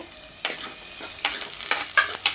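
Slit green chillies are added to a Thirukkai (stingray) fish curry and stirred in hot oil, giving a soft continuous sizzle broken by several brief scraping stirs, close and fairly quiet with no talk.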